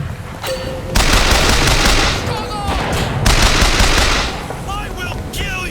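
Sniper and automatic gunfire from BioShock Infinite, in dense, loud bursts of shots with brief pauses between volleys, plus a short game voice callout.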